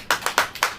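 Church congregation clapping in a sermon gathering, five distinct sharp claps in a quick, slightly uneven rhythm, close and clear with no voices.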